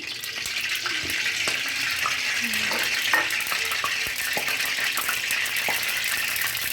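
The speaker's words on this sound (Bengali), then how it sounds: "এই তেলের মধ্যে আরো একটু তেল দিয়ে দিলাম।" Oil sizzles loudly and steadily in a pan while cooking Bengali egg curry, a dense continuous frying hiss with occasional clinks of stirring, no voices.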